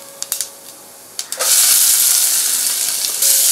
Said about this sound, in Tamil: ஆயில் காஞ்சிருச்சு. கடுகு போடலாம்.